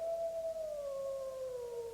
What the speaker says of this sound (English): It's not just a dog, Victoria. It's the dog